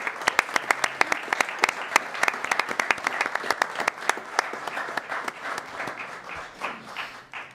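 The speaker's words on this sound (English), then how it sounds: "So let's give them a big round of applause." At a city council meeting, the audience claps for a championship youth team, sharp distinct claps from nearby hands over a denser background, thinning and fading toward the end.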